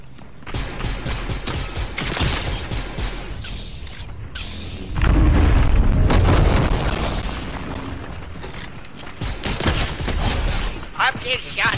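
Fortnite gunfire on PS4: repeated booming shots and bursts crowd a dense, busy mix, loudest in a heavy stretch midway, with a voice talking over parts of it.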